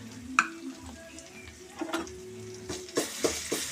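Ginger-garlic paste and turmeric frying for an egg gravy, a soft sizzle under repeated spatula strokes and metal scrapes against the pan, the stirring knocks clustering more densely near the end.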